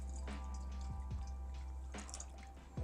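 Water pouring into a Nalgene bottle outdoors in the field, a soft burbling trickle with small splashes and gurgles, close and quiet, no voices.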